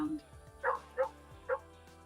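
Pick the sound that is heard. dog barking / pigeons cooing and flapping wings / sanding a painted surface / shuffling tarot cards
dog barking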